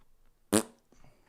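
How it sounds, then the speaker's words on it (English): A single short, loud fart sound effect bursts out of near silence, lasting about a tenth of a second, followed by faint background noise during an Extreme Demon level in a rhythm game. "Fart sound effect."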